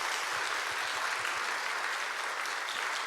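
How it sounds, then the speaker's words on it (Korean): A church congregation at a prayer meeting applauds a praise team and media volunteers, producing steady, dense clapping that fills the room evenly from start to end without a break. "격려의 박수 한번 주셨으면 감사하겠습니다"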